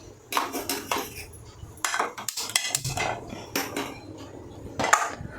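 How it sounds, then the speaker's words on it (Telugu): A cooking pan being picked up and handled in a home kitchen, with a series of sharp metallic clanks and scrapes of cookware and utensils in irregular bursts, close and fairly loud. "ముందుగా మనం అయితే ఒక పాన్ తీసుకుందాం."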